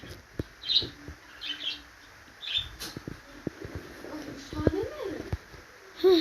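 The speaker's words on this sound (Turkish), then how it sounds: "Kusura bakmayın kuşların ses geliyor." Birds chirp intermittently in short high calls while a person talks over them, the tweets fairly faint and scattered.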